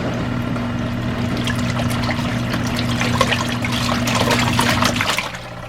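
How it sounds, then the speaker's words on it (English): A portable washing machine in a full-time RV agitates clothes in water, oscillating back and forth over a steady motor hum with sloshing, swishing water throughout. "So it's just going to oscillate back and forth for the 12-minute cycle."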